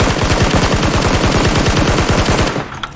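Sustained automatic fire from an assault rifle in PUBG, a rapid, steady burst of loud, close shots that runs nearly three seconds before cutting off, followed by a faint clink.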